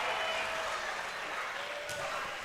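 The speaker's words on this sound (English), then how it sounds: "What a crowd." A volleyball crowd cheers and applauds in a gym, a continuous broad wash of clapping and shouting that stays strong throughout, with a voice faintly present.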